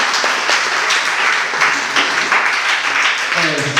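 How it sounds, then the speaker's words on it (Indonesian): Audience applause at a community service event closing session, a dense burst of clapping from a crowd that holds steady for a few seconds, with a voice breaking in near the end. "tepuk tangan sekali lagi"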